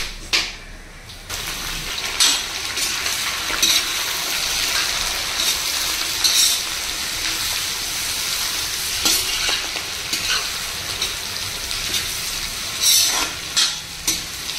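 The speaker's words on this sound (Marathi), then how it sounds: "अख्ख्या मसाल्याची फोडणी करता आता" Whole spices sizzle and crackle in hot oil as the tempering for a vegetable biryani is stirred, a loud, steady frying hiss with occasional scraping bursts throughout.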